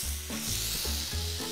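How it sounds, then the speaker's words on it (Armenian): Meat and broccoli fry in a pan, giving a soft, continuous sizzle with a few brief stirring bursts, close up and quiet, with nobody talking. "Թողնենք այս կողմը տապակվի, ավելացնում ենք բրոկլիները"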